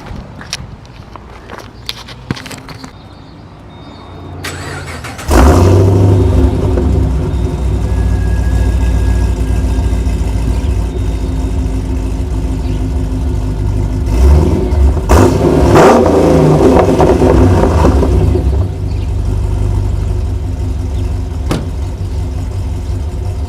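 A Pontiac G8 GT with a catless exhaust and only a mid muffler starts up after a few seconds of quiet shuffling, settling into a loud, deep idle with a couple of throaty revs midway.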